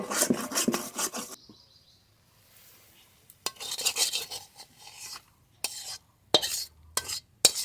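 A spoon stirs tomato tok cooking in a pan, giving bursts of scraping and rasping strokes with pauses between them, close and fairly quiet, with a faint sizzle underneath.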